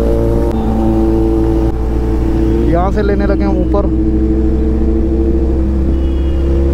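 A Suzuki Hayabusa and Kawasaki Z900 ride together as a steady motorcycle engine drone swells into a brief rising rev, loud and close, while someone talks over it.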